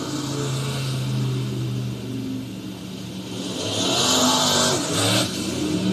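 Engines of race cars rumble and rev on the Southern Oregon Speedway track in Medford, Oregon, one growing louder as it passes closer, then fading slightly.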